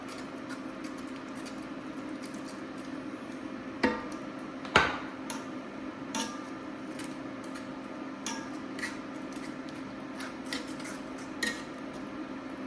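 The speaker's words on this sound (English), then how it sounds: "I'll use the spoon for a second because it's a little easier to. And you want to keep stirring it." Spoon stirring a ground pork mixture soaked with milk in a bowl, producing scattered light scraping taps and a couple of sharper clinks against a steady background hum, close by and without speech.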